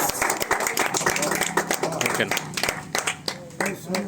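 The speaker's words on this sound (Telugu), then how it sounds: "ఒకసారి గట్టిగా చప్పట్లు పెట్టాలి" An audience at a prize-giving ceremony in Arlagadda village applauds, with dense, rapid clapping that rises and falls in bursts, and a voice speaks over it.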